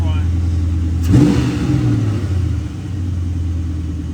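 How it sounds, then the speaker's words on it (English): An LT1 V8 swapped into a Mazda B4000 pickup, with one cylinder misfiring, idles with a deep rumble, then gets a quick throttle snap that rises and falls back to idle, loud and close. A person speaks over the engine. "I'm gonna do the same throttle snap, keep an eye on 8."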